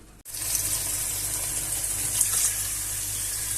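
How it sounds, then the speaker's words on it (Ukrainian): Cold water runs steadily from a tap over freshly cooked homemade sausages, making a constant close hiss and splash that starts abruptly and continues without talk. "Душування проводимо холодною водою під прокічною протягом 5 хвилин"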